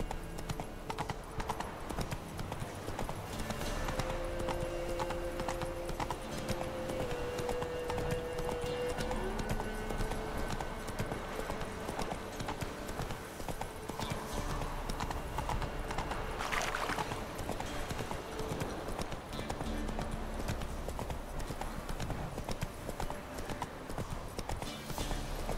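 Roach the horse galloping in the video game Witcher 3, rapid steady clip-clop hoofbeats running throughout over game music and ambience, with a faint voice in the background.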